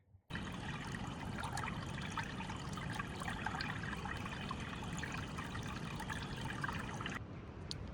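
Water runs steadily along a woodland creek, a close, continuous trickling rush that holds even from start to finish with no voices, then cuts off abruptly just before the end.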